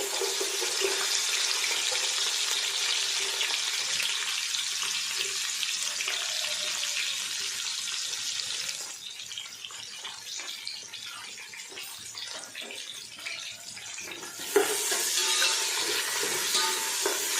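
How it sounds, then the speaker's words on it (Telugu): Onions and cashews fry in oil for a chicken and bagara rice dish, a continuous close sizzling hiss that softens midway and then swells again, with no talk. "ఉల్లిపాయలు బాగా వేయించుకోవాలండి, బ్రౌన్ కలర్ వచ్చేంత వరకు."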